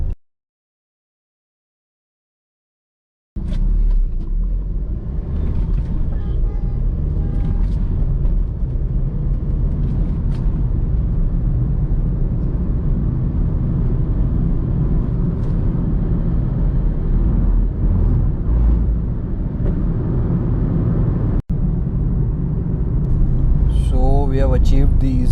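A 2016 Hyundai i20 Active with a 1.4-litre CRDi diesel engine drives along, its low engine and road rumble steady inside the cabin after a silent start, with someone talking over it.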